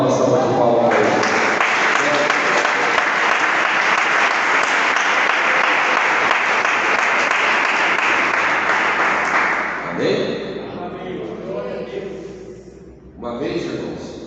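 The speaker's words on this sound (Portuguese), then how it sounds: "Dá uma salva de palmas para ele." A church congregation breaks into sustained, loud applause that fills the space for about ten seconds, then tapers off as a voice begins speaking.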